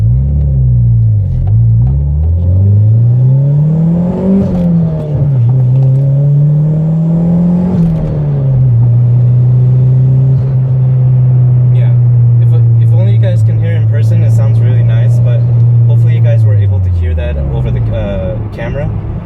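A 1991 Toyota MR2 Turbo engine pulling hard, loud close rumble rising in pitch through two gear changes, then holding a steady high drone before easing off, with turbo whistle and hiss near the end.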